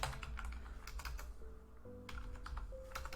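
Rapid clicking keystrokes on a computer keyboard, an uneven run of taps with a brief lull midway, close and fairly quiet with no voices.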